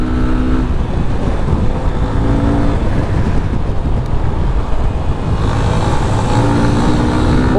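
A Yamaha FZ25 BS4 naked motorcycle accelerates along a street, its engine a loud, continuous low drone mixed with heavy wind rush across the microphone and no talk.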